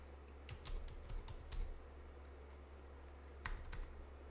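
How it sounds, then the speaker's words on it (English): Clicking keystrokes on a computer keyboard while typing a search into a Linux Mint desktop, arriving in short irregular bursts with pauses between them, close and fairly quiet over a steady low hum. "Here, I can just type it up here."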